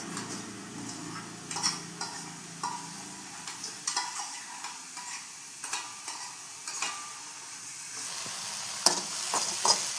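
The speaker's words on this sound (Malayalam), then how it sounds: "ഒന്ന് ഫ്രൈ ഒക്കെ ആയി നന്നായിട്ടൊന്ന് ചെമ്മീനൊന്ന് വറുത്തെടുക്കാനായിട്ട്" Prawns frying in an old iron pan in a home kitchen, a steady sizzle broken by repeated scraping and clinking strokes of a stirring utensil against the metal, close and clear.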